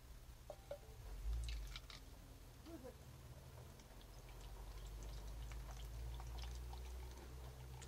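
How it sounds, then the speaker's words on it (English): Beer pours steadily into a yard-sale glass at a quiet level, with fizzing and splashing continuing for several seconds. "let me pour this first"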